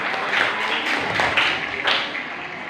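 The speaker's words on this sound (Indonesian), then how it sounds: "Fani, tepuk tangan ya." Classroom applause breaks out as students clap together, a dense burst of sharp taps lasting a few seconds at steady loudness.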